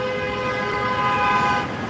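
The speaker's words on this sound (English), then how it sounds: "So that bus was honking at a car because it turned right in front of a bus." A city bus holds a long, loud, steady horn blast on a busy downtown Chicago street, with traffic rumble underneath and no talking.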